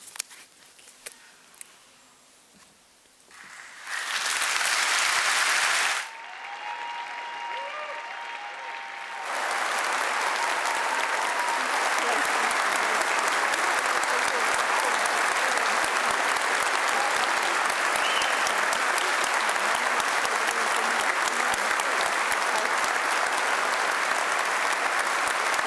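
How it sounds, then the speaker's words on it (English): Applause at a Cardiff University graduation ceremony begins with a short burst, drops briefly, then swells into a long, steady ovation from a large crowd that carries on to the end. "we'll just let them clap, shall we?"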